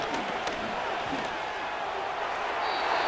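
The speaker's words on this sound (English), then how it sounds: "This crowd turning up the decibel level" A stadium crowd roars at an NFL game between the Dallas Cowboys and Washington Commanders, a dense, continuous wash of noise that rises louder toward the end, with a voice talking through it.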